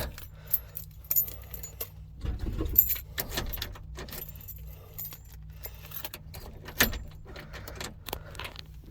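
Truck keys for a 1979 Ford Ranger jangle close up in a cab, in several bright clinking bursts with small rattles between them, while nobody speaks.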